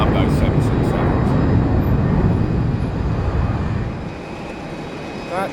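A noisy Boeing 767 jet departs for Atlanta from London Heathrow, its broad roar loud at first and then slowly fading as it climbs away.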